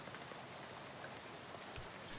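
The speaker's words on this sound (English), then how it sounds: "Oh, it's raining." Steady rain falls on a night road, a dense, even hiss of drops that holds at a constant level from start to finish with no voices over it.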